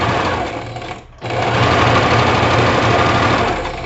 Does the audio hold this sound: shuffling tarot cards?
no